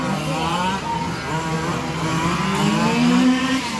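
Race car pulling away from a pit stop during a 12-hour endurance race at Saint Affrique, engine note rising as it accelerates, loud and fairly near, with no talk over it.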